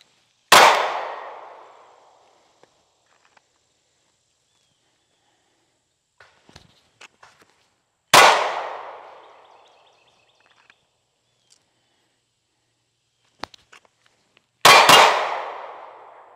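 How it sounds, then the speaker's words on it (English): Three loud handgun shots ring out several seconds apart during a holster shooting test, each a sharp crack with a long fading echo, separated by near silence and faint clicks. "So I'll take some shots here."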